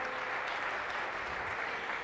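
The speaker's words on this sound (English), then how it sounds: "Let's give them a round of applause as well." A crowd at an African National Congress dialogue event in Gauteng gives a brief, steady round of applause, heard at moderate distance.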